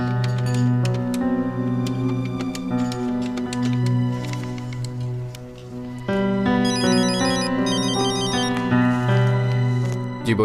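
A telephone rings with a melodic, music-like ringtone of sustained repeating notes that shift midway, loud and close, with no talk over it.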